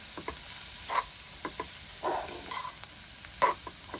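A spoon stirs a jackfruit vegetable mixture with sesame powder in a pan, making quiet, intermittent scrapes and soft sizzles in short bursts, with no talking.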